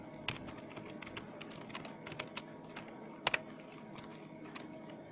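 HTML5 code typed on a computer keyboard: a steady run of quiet, close key clicks with a couple of sharper taps, over a faint room hum.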